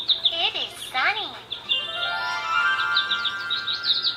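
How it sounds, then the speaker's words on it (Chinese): A children's sound book plays a bird call effect: bright, repeated electronic chirps and tweets, fairly close and clear, running through the whole moment. "哇，有鸟叫的声音。"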